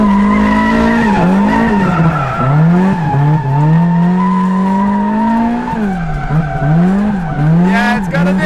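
A Toyota AE86 engine wails and revs continuously while tires squeal and skid through a long drift, loud and close throughout.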